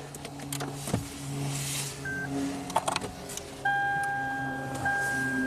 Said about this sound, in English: Let's fire up the car.